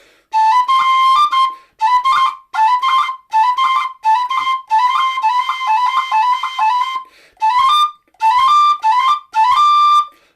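A Weston tin whistle plays in C natural fingering, with clear, bright, sustained notes in phrased bursts separated by short breaths, loud and close.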